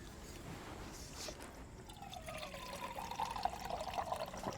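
Water poured into drinking glasses one after another, a rising trickling fill that grows louder toward the end, heard close with no talk.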